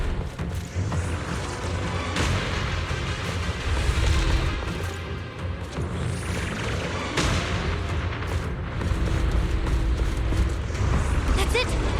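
Cocoon blasts in Zenless Zone Zero go off as repeated deep booms and crashing explosions, loud and dense throughout, layered over game background noise.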